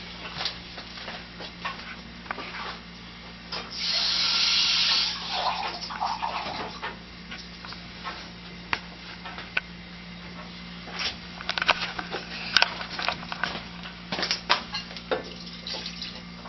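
Kitchen tap water runs for a few seconds into a measuring cup of water for peanut brittle syrup, a steady splashing rush, followed by quieter clinks and handling ticks.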